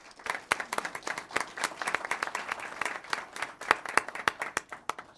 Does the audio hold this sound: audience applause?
yes